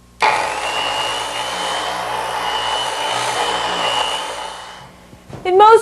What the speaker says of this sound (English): Or you can use an orbital sander to speed things up.